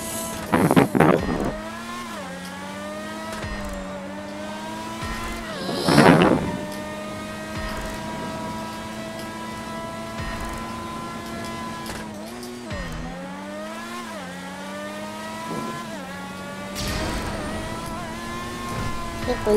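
Race car engine in a GTA 5 Online stunt race, a loud, steady, buzzing drone that rises and falls through gear shifts, with sharp bursts of boost or tyre noise at intervals and no voices over it.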